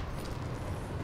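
A continuous looping fire gem effect from a video game, a dense rumbling crackle that roars on steadily at a close, full level without any talk.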